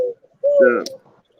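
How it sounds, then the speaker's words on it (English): An owl sitting in a big oak tree gives a single short hooting call, clear and fairly close, with a brief sound just before it and quiet all around. "I got a big owl up here in this big oak tree"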